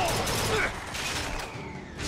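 Turret gunfire in Bioshock Infinite: a dense, continuous burst of shots and game noise at fairly even loudness, with a brief dip before it picks up again.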